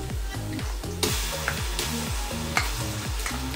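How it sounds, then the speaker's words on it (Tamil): Ginger garlic paste frying with golden onions in a pan, a steady loud sizzle broken by regular scraping stirs and a few sharp spoon knocks against the pan, close up with no voices. "இந்த ஸ்டேஜில் நம்ம அரைச்சி வச்சுருக்கிற இஞ்சி பூண்டு பேஸ்ட்டை ஆட் பண்ணிடலாம்."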